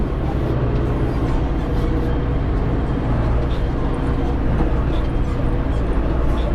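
A tractor engine runs steadily at high revs while mowing a thick hay crop. The low, dense mechanical drone holds constant and loud for the whole stretch, with no voices.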